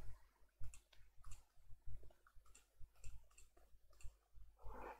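Computer mouse clicks in quick succession, a dozen or so sharp, close ticks spread unevenly over a few seconds while selecting and deleting text in PowerPoint, with a soft rustle near the end.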